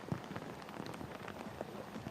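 Rain falling steadily during a college football game, a faint, even hiss of drops and patter with no voices.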